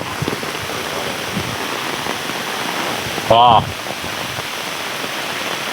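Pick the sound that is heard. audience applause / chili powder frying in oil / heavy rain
heavy rain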